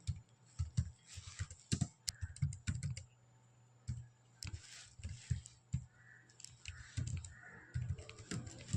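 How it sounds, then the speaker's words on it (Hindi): Java code being typed on a computer keyboard: quiet, irregular clusters of key clicks in quick bursts with short pauses, fairly close and faint, with no talking. "तो यहाँ पर मैं फटाफट टाइप कर लेता हूँ।"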